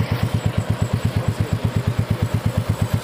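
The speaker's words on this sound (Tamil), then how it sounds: "அடுத்து வண்டியோட எக்ஸாஸ்ட் நோட்டு கேட்போம்." Royal Enfield Meteor 350 motorcycle idling close by, its exhaust giving a steady, loud, even thump at a quick regular rhythm, heard alone with no talk.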